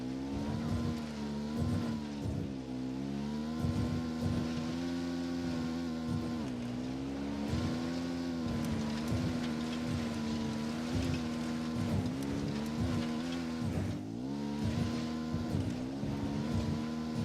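Vehicle driven in Ghost Recon Wildlands, video game: a steady droning engine whose pitch rises and falls with repeated revving and gear changes throughout, close and continuous.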